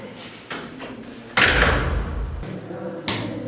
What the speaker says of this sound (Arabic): سد الباب سد الباب.